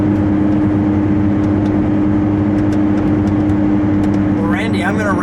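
A 2017 Ford GT with a 650 HP twin-turbo V6 cruises steadily, giving a loud, constant engine drone and road roar from inside the car, with a brief rising whine near the end.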